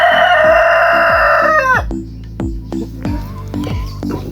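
A rooster on a chicken farm crows loudly and close, one long call, then gives way to a run of sharp repeated clucks and squawks from the flock in an uneven rhythm.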